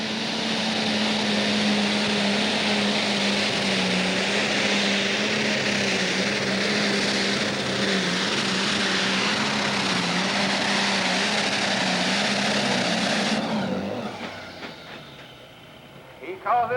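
A super stock pulling tractor at a 1995 Cape Girardeau, Missouri pull roars loud and sustained with a steady high-pitched whine, then the engine note drops off abruptly near the end; an announcer's voice is mixed in.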